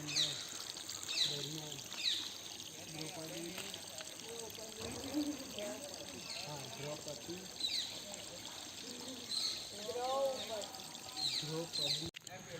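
Water pours and trickles steadily at the Zand Hanuman temple in Pavagadh, with birds chirping now and then and a person talking over the flow.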